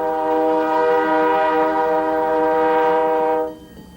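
A steady, chord-like train horn sounds loudly for several seconds, then cuts off abruptly, leaving faint rumble.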